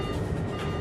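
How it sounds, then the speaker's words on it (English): An airliner's onboard traffic collision avoidance system (TCAS) alert sounds at cruise altitude over Switzerland, a brief steady electronic tone set against a background hum of cabin noise. "its onboard traffic collision avoidance system, TCAS, sounds an alert."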